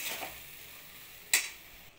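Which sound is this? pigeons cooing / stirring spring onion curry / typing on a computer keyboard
stirring spring onion curry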